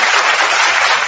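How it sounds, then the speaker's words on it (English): Applause sound effect, a dense, steady wash of many hands clapping at full loudness, continuous and unbroken for about a second with no talking. "A little applause for those beautiful college level notes."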